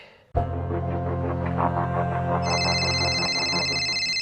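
A phone rings steadily after a brief quiet start, a sustained electronic ringtone with a brighter high tone joining partway through, close and loud.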